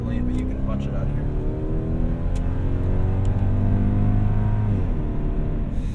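1998 Lexus GS400 accelerating hard, the engine note droning loudly and climbing steadily in pitch over several seconds, heard from inside the car, with people talking faintly beneath it.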